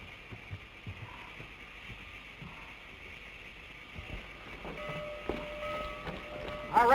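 Train running in a 1936 western film, a steady low rumble and rhythmic clatter that swells toward the end, with a brief higher whistle-like tone near the close.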